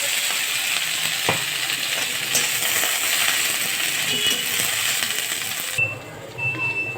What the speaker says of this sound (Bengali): ফোড়নটা হয়ে গেছে, এবার শাকটা ঢেলে দেবো